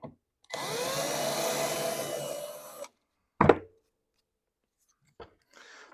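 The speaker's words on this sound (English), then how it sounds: "Let's drill these rivets out." Tubular rivets being drilled out with a power drill and a 1/8 inch bit, heard as one sustained grinding whir lasting a couple of seconds, then a sharp clack and a few faint knocks.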